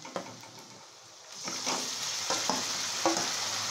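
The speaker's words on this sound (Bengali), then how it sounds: "এবার এই যে ম্যারিনেট করা চিকেনটা আছে সেটা ঢেলে দেবো।" Marinated chicken tipped into a pan of frying onions brings a quiet sizzle that suddenly swells into a loud, steady frying hiss, with occasional stirring scrapes, heard close up with no talking.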